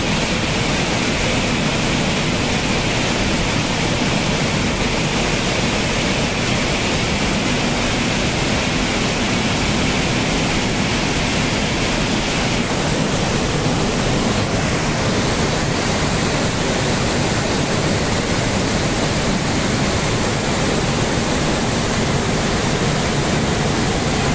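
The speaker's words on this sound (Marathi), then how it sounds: "बघा पाण्याचा वेग बघा किती असतो आवाजच बघा काय असतो इकडे" Fast, rushing river water beside the Dhutpapeshwar temple near Rajapur, a loud, dense, unbroken roar like a waterfall that fills the whole scene steadily from start to finish.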